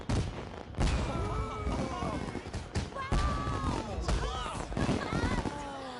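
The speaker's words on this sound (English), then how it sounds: "Fireworks blossom across the night sky, and we sigh in awe." Fireworks bursting in the night sky in the video game Persona 4, a series of sharp cracks and booming pops in irregular rhythm, mixed with tonal game music and voices.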